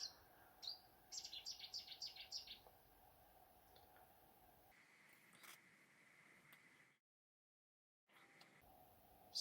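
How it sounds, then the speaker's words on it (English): A Cetti's warbler sings in garden woodland in Wales, giving a faint, distant burst of rapid repeated notes, followed by quieter scattered chirps against a hushed background. "Seddy's warbler, almost certain."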